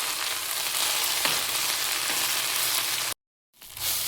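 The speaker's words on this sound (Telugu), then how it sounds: "గోంగూర బాగా మగ్గిపోయే వరకు, మెత్తగా అయ్యే వరకు దీన్ని ఇలా వేయించుకోవాలి." Gongura leaves fry in a pan with a loud, dense sizzle and occasional stirring scrapes, then cut off abruptly to brief silence before the sizzling resumes, with no voices.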